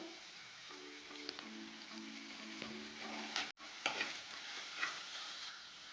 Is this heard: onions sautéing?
yes